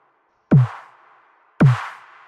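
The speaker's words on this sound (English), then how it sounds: "of course, we have our snares," Two punchy snare drum hits from a glitch hop track, each with a sharp attack and a noisy decaying tail, spaced about a second apart, the second slightly louder, heard alone.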